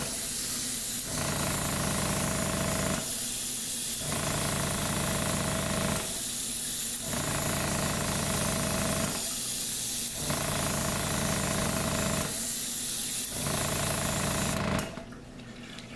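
Airbrush hissing as it sprays paint onto a 1/1400 scale AMT USS Enterprise-D model kit, a steady airy hiss alone with no talk, pulsing in short regular bursts roughly every three seconds over a constant compressor-like drone.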